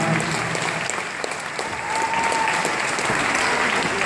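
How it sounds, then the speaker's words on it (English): A concert crowd applauds a flute player in the band, a loud, continuous burst of clapping and cheering with a brief whistle-like tone rising through the middle. "Give him a round of applause"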